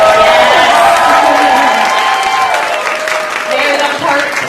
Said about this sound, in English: Everybody give these angels a round of applause.